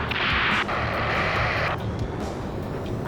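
A thermobaric rocket explosion in the Ace Combat 7 combat flight video game booms into a continuous loud, dense roar of blast and debris, with jet engine noise mixed into the dense battle din.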